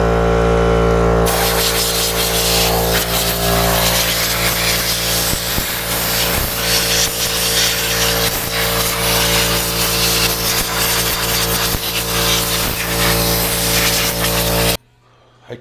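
Compressed air blasts steadily over a dirt bike's electrical components and buttons during routine maintenance, a loud, continuous hiss close up that runs without a break until it cuts off abruptly near the end.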